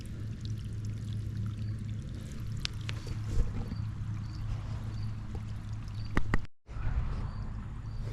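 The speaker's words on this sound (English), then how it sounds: "Look at the dirty water coming out of there." Dirty water gushes steadily out of a pond pressure filter, a continuous close pouring and splashing with a few clicks and a brief cut near the end.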